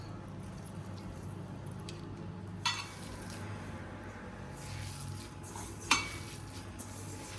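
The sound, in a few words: mixing masala vada batter by hand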